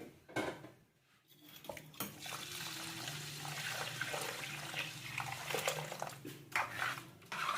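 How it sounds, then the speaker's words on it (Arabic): Milk poured over butter-rubbed rice in a pan while making baked rice, a steady liquid pour with pan and utensil clatter, close and continuous for several seconds. "بعد ما دعكت الرز بالسمنة كويس هنزل عليه برتل من الحليب"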